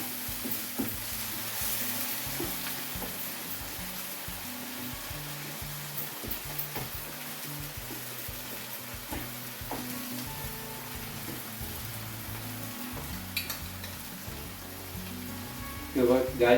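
Fish keema sizzles steadily in a pan as it is stirred together with onions, a continuous frying hiss broken by soft scraping strokes, close and fairly quiet, with no talking.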